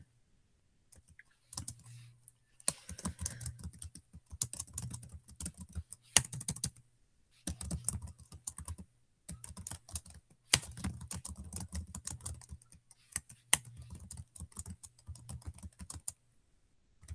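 Someone types on a computer keyboard in bursts of rapid, close clicking, pausing briefly between runs of keystrokes, with a faint steady hum underneath and no talking.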